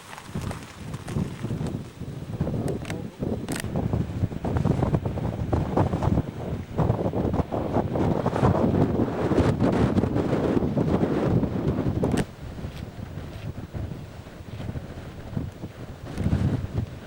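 Strong wind buffets the microphone outdoors during a climb to a high point, a continuous loud roaring rush with gusty swells and a few sharp knocks, no voices.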